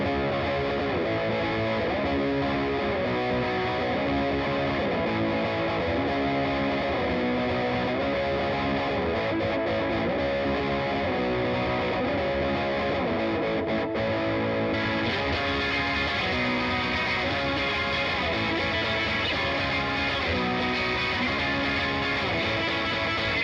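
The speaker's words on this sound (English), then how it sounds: "So it gives you a bit of a mid-range overdrive distortion." A Squier Classic Vibe 60's Esquire Custom electric guitar plays through a Fuzz Imp overdrive pedal, giving a gritty mid-range distorted tone as a steady riff of chords and notes runs continuously.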